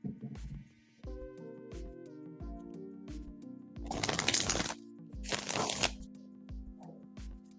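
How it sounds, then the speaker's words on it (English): Tarot cards are shuffled by hand during a live reading, with two dense bursts of crisp riffling and slapping close up, set against a soft, steady background music bed. "So I'm going to shuffle those now."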